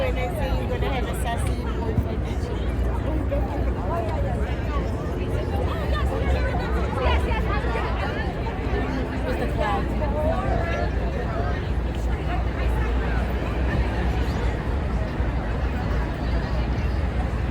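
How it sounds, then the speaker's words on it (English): Growing crowd gathered outdoors awaiting a solar eclipse, a steady dense babble of many overlapping voices and chatter near and far, continuous throughout without any single voice standing out. "The crowd is building"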